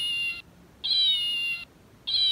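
A cute plush toy kitten of the Gans brand gives three repeated electronic meows, each a steady high-pitched tone, loud and close, with short quiet gaps between them and no talking.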